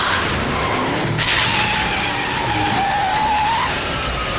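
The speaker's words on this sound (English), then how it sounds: "Hear that? It's his car." A car skids loudly, tires squealing in a long rising-and-falling screech over a roaring engine and broad noise.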